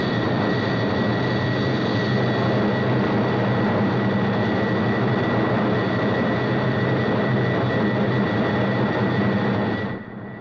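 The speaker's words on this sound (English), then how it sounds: "soon after M crit is exceeded, the aircraft starts to buffet violently" An aircraft flying near its critical Mach number in historic footage: a loud, steady engine roar with a persistent high whine, continuous and unchanging for about ten seconds before the sound drops away at the end.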